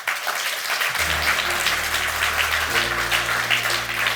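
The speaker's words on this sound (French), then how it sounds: "Vous avez raison d'applaudir son courage" Dense, continuous applause from an audience at an equestrian event fills the room, with a low musical hum entering partway and sustaining underneath.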